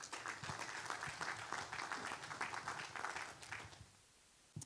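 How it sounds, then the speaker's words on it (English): Audience applause fills an auditorium at a local candidates forum, a dense steady wash of many hands clapping that fades out near the end. "let's give a round of applause to them as well"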